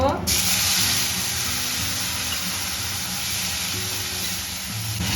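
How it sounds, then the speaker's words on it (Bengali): A loud, sudden burst of hissing sizzle as onion paste hits hot oil, then settles into a continuous close frying crackle. "পেঁয়াজটা একটু ভাজা ভাজা করে নেব"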